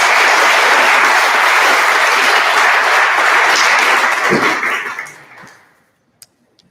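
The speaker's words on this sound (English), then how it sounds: "let's give another round of applause for those two teams" Crowd applause at a school's fall athletic awards ceremony, a dense, steady roar of clapping that holds for several seconds, then tapers off and fades to near silence with a couple of stray claps at the end.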